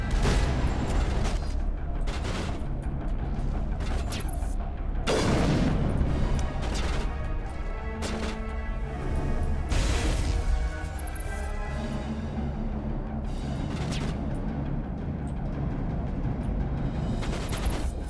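Grenade blasts and sustained gunfire from Mass Effect combat fill the stretch, loud booms and rapid rattling bursts repeating throughout with no pause in the action.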